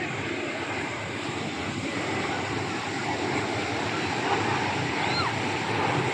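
Steady, loud engine roar and airflow inside an airplane cabin as it descends to land at Cox's Bazar airport in Bangladesh, a constant broad hum with no pauses.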